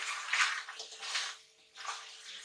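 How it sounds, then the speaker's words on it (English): Water splashes and gushes in a few uneven bursts, poured into a cooking pot for chilli crab, with brief lulls between pours. "You need to add in water."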